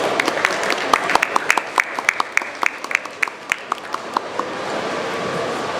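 An audience applauds a session moderator at a business conference on the informal gig economy, with distinct, fairly loud claps in an irregular rhythm that thin out toward the end.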